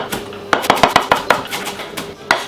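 A knife finely slicing spinach into chiffonade on a cutting board, a quick run of about a dozen close, crisp taps in uneven rhythm, with no talking.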